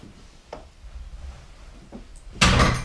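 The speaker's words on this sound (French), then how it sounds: "une fois qu'il claque la porte, un drôle d'effet" A door fitted with a slow door closer swings shut and slams with a loud, broad bang near the end, preceded by a couple of faint knocks and creaks in a quiet room.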